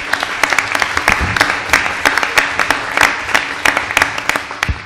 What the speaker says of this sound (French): le public va applaudir